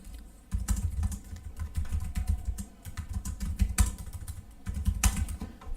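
Rapid typing on a computer keyboard while entering Python code, close and steady, with dense clusters of keystrokes, a few heavier taps and brief pauses, and no talking.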